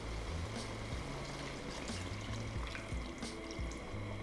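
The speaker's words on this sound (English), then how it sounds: "we're going to pour in 360 ml or 1½ cups of chicken stock" Chicken stock pours into a pan of cooking chicken chasseur, a steady close liquid gush and splash lasting several seconds with no voices.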